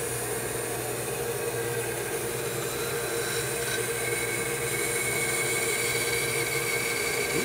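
A bandsaw slicing through wood while making a bandsaw box, a steady broadband whine and hiss running unbroken and fairly loud from start to finish.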